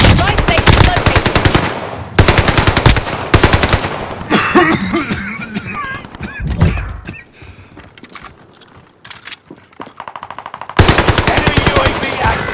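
Machine gun fire in a first-person shooter video game comes in loud, rapid automatic bursts, with quieter game effects and pauses between volleys before a final long burst.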